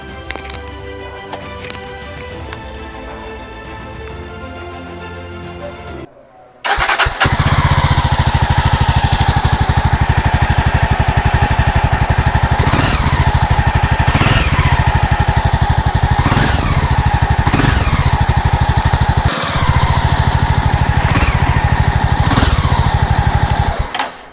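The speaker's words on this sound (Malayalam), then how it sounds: "നമുക്കിതിൻ്റെ എക്സോസ് നോട്ട് ഒന്ന് കേൾക്കാം" A Jawa Classic BS6 motorcycle engine starts after a quiet stretch and idles loudly and steadily, its exhaust note thumping close by with a few brief throttle blips.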